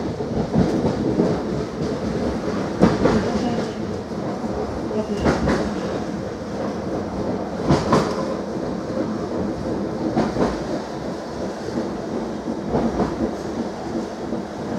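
A suburban stainless-steel commuter train runs on rails between Saint-Ouen-l'Aumône and Pontoise, heard from inside as a steady loud rumble with periodic clacks over rail joints, and a station announcement voice over the top.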